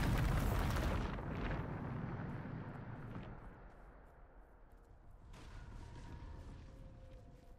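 Bombarda explosion spell cast in the Hogwarts Legacy video game, a loud booming blast at the start that rumbles and decays over several seconds, with a second swell of debris-like noise later and no talk.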